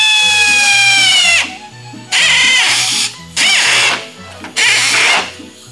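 A power drill drives long screws into the body of a 1969 Volkswagen Karmann Ghia under rust repair, whirring up loudly in four separate bursts with short pauses in between.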